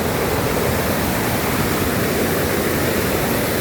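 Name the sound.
Kanthaloor waterfall flowing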